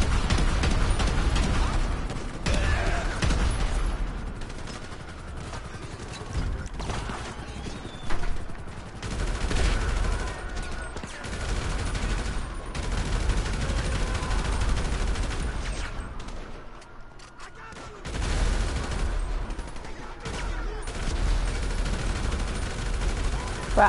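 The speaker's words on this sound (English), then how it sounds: "I got explosive bullets and I'm just blasting these cops right up" Explosive rounds fired at police in Grand Theft Auto, loud dense bursts of gunfire with booming impacts, continuous across the stretch with a brief lull, mixed with game sound.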